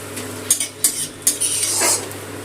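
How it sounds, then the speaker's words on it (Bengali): Asafoetida frying in hot oil in a pan over low gas gives a soft sizzle, broken by several sharp clinks and scrapes of a spoon stirring against the metal, close and distinct. "হিংটা একটু তেলের মধ্যে ভেজে নিলাম।"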